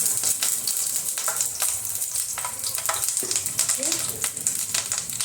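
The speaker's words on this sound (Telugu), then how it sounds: "ఆయిల్ వేడెక్కాక కరివేపాకు అండి." Curry leaves sizzle loudly in about two tablespoons of hot oil, the start of a prawn dish. A dense, continuous frying crackle runs throughout, with a few faint clinks and stirring sounds.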